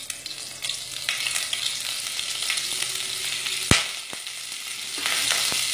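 Hot oil sizzles and crackles steadily as two green chillies are dropped in for tempering, with a sharp clink of a utensil against the pan partway through.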